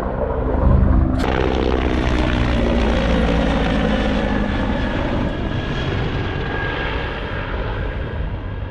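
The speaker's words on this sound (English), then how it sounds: "What is that, a helicopter?" Steady, loud rotor-and-engine drone from a helicopter overhead, holding constant throughout with a sharp click near the start.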